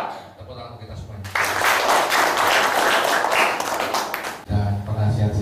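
Burst of audience clapping at a PSSI License C coaching course event in Solo, starting abruptly after speech and fading back into talk near the end, with voices underneath.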